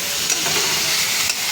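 Potatoes, carrots and eggs frying in hot oil in a pan, a steady close crackling sizzle with a couple of brief stirring scrapes, no voices.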